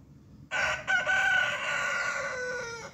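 A rooster on a backyard farm with hens crows once, loud and near, a long drawn-out call that starts abruptly and holds for over two seconds against a quiet outdoor background.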